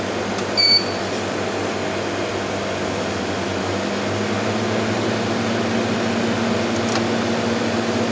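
A digital ice cream machine hums with a steady, even mechanical drone as it dispenses a mixed black currant and vanilla flavour, a continuous whirring motor sound with a brief click near the start.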